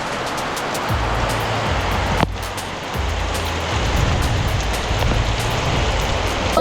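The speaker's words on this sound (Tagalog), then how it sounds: "Grabe, ang lakas ng ulan." Heavy rain pours steadily at a beach in Daet, Camarines Norte, a dense continuous hiss with low rumbling underneath and occasional sharper drops, no voices.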